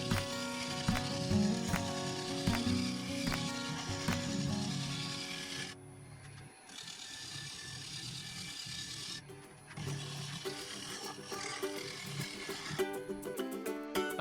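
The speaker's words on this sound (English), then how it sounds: "I began shaping the base using the 3/8 bowl gouge, using a combination of push cuts and shear scraping." A 3/8 bowl gouge shaping the base of a wooden bowl on a lathe with push cuts and shear scraping, a continuous rasping scrape over the motor's hum that eases for a few seconds, then resumes.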